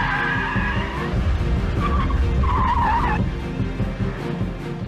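A Honda NSX Type R sports car drives hard, its engine roaring steadily nearby while tires squeal and skid briefly in the middle, then the engine drone carries on.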